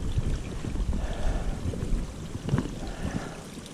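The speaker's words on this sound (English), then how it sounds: "Big rock, water running all the way down through here" Mountain stream water running down past a big rock along a forest hiking trail: a continuous, close rushing and gurgling flow with low burbling churn, steady throughout and heard alone.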